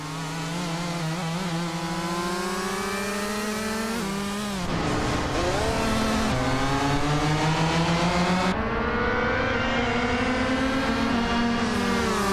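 Several race cars in a video game run nose to tail for position, engines droning loud and close with overlapping pitches that climb and shift as they accelerate and change gear, steady throughout.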